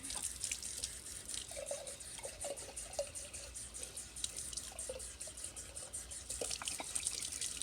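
Sprouts being rinsed under running kitchen tap water, with a steady faint trickle and splashing, a few soft drips and small clinks throughout, no voices.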